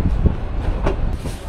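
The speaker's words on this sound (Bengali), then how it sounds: "আর আমাদের ট্রেন ভিড়ছে এই পাশের প্ল্যাটফর্মে।" A Ramna local meter-gauge passenger train pulls into a station platform, low rumbling and rattling of coaches with soft clanks, close and steady, no voices.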